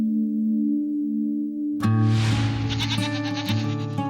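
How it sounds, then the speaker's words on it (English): Goat bleating in a farm setting around newborn kids: a steady low bleat at first, then from about two seconds a louder, close, harmonic bleat overlaid with fainter higher calls, likely from the young goats. "It's been 2 months since Dr. Berger's visit with Sarah's goat, Shai, and the babies have finally arrived"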